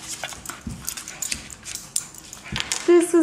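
A big dog chews at a tough toy duck, giving close, irregular mouthing, squeaks and soft whimpers, while a person talks softly to it.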